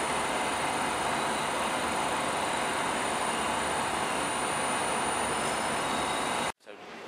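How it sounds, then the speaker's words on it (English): Loud, sustained rumble and roar of an Underground train pulling into a station platform, broad and steady throughout before cutting off abruptly near the end. "just waiting for our next train, which will be this one over here"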